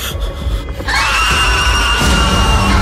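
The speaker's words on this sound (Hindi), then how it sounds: "एक जोर की चीख निकली दोनों के मुंह से, इतनी तेज कि मैंने अपने कानों को हाथों से ढक लिया" Two people let out a loud, piercing scream that bursts in suddenly after a tense moment of low rumble and stays harsh and sustained to the end, with no talk over it.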